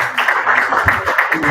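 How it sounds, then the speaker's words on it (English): Brief applause for panelists at an AI career fair, a short burst of clapping from a modest audience, fairly close and steady, lasting under two seconds. "Please give our panelists a small applause."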